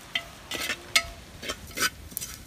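Ajwain, cumin, black pepper and grated coconut dry-roasting in a pan, with several soft scraping stirs and light rustling of the spices at close range, no talking.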